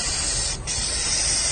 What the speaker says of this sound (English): Still putting down the spray foam over here, and coating.